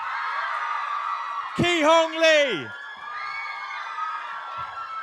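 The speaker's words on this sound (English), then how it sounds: "Keep the applause going." A crowd at a cast appearance for The Maze Runner: The Scorch Trials cheers and applauds steadily. A loud amplified voice briefly announces over the noise.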